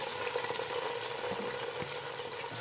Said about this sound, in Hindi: घी गर्म हो गया, इसमें हम दो प्याज डाल देंगे